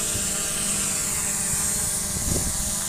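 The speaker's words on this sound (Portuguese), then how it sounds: "Aí é um drone bem estável, ó." A JJRC X17 drone flying, giving a steady, close, continuous whirring buzz of its rotors that holds at an even level throughout, with no talking.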